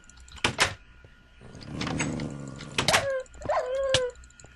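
Dogs in The Lost Potato video game give a couple of short sharp barks, then a long stretch of whining and a rising, howl-like cry, all fairly close and without talk over them.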